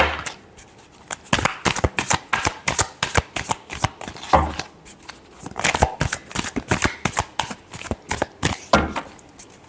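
Tarot cards being shuffled up close, a long run of quick, crisp riffling bursts with short pauses, loud and steady throughout, no talking.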